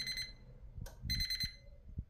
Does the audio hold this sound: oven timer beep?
yes